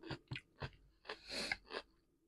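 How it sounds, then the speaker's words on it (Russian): Salad greens are chewed close to the microphone in quiet, crisp bursts, about six separate crunchy bites and munches spaced across a couple of seconds. "Жуем траву."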